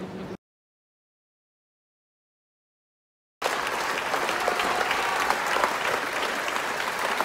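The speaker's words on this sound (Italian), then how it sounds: "Agli applausi finali" Applause from an opera audience at the close of a performance of Monteverdi's L'incoronazione di Poppea, a sustained dense clapping of a full hall that breaks in after a pause of silence and holds steady throughout.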